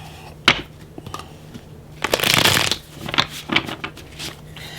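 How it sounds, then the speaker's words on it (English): Tarot cards riffle and slide together in a close shuffle, with short papery flicks leading into a dense burst of fluttering, then a few scattered taps and slaps as the deck settles. "we're going to give it another shuffle."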